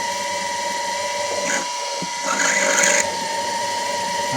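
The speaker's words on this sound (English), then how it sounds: "I'm going to drill this hole for an 8mm tap" A drill bores a hole sized for an 8mm tap while building quick-release ditch light mounts for a Tacoma, giving a steady whine with a constant tone that rises briefly in pitch as the bit cuts.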